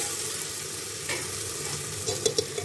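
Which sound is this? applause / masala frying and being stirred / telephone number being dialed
masala frying and being stirred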